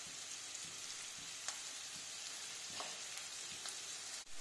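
Onion fries in a pan for a pointed gourd (potol) bhorta, a soft, steady sizzle close by with occasional light crackles and stirring clinks, no voices.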